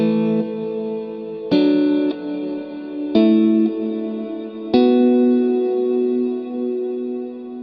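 Guitar chords played through a Fender Marine Layer reverb pedal set to its large hall at the longest reverb time, four struck chords each swelling into a long, lush sustained wash that rings over the next, loud and alone.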